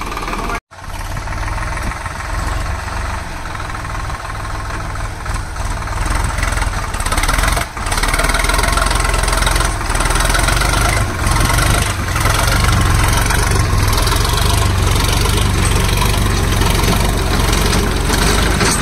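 An Ace 350 40HP tractor engine runs steadily at close range with a deep, continuous rumble that builds slightly after a brief dropout near the start, with a rotavator setup on a farm.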